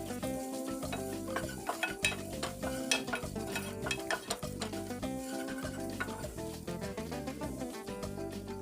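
Ginger and garlic frying on a low flame, heard up close as a steady sizzle with frequent rhythmic stirring scrapes and utensil clicks against the pan, with no one talking.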